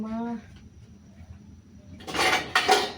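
A metal lid clatters down onto a cooking pot of chicken adobo with vegetables, two quick clinking knocks near the end after a quiet stretch and a brief spoken word at the start.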